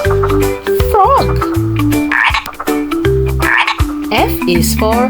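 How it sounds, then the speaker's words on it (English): A frog croaking in a rapid series of loud, close, throaty calls, with pitched squeaky chirps woven between the croaks. "F is for frog"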